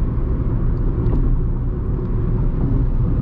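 A 2020 Ford Ka Sedan SE 1.5 with a manual gearbox cruises steadily in fifth gear at about 100 km/h on a highway, giving a continuous loud low engine and road rumble with no breaks.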